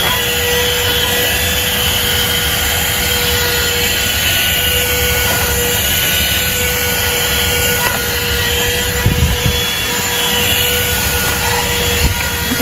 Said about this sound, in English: it takes a few tries for it to actually suck up all the dust